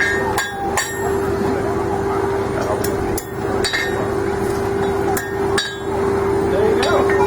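A blacksmith forging a hanging hook strikes hot metal with a hammer, sharp ringing blows landing irregularly every second or so over a steady workshop hum.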